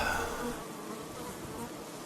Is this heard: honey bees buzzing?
yes